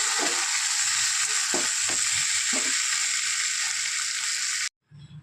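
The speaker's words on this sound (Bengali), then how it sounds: "সবগুলোকে একসাথে আর একটু কষিয়ে নেব হালকা আঁচে।" Fried prawns and kakrol sautéing in spices over low heat give a steady, bright sizzle, broken by a few soft scraping stirs, before the sound stops abruptly near the end.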